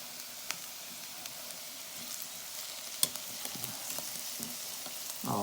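Red onions sizzle in a hot pan, a steady crackling fry close by with scattered pops and a few light scrapes as they are stirred, ending in a louder stir.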